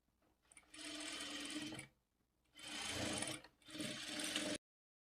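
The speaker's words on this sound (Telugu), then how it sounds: "ఇప్పుడు ఈ మార్కింగ్ మీదనే స్టిచ్ చేసుకోవాలి" A sewing machine stitches blouse fabric along a marked line in three close bursts of rapid whirring, separated by short pauses.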